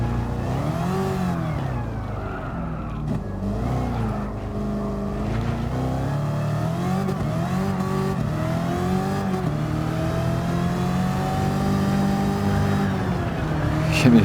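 A car engine revs hard and continuously in the Gran Turismo 7 racing game, its pitch rising and falling as it accelerates, loud and steady throughout with no voices.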